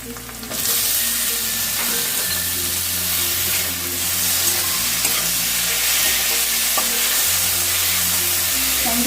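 Chopped tomato hits hot oil with fried onions in a pan, setting off a loud, steady sizzle and frying hiss that carries on throughout, close up, with a low hum beneath.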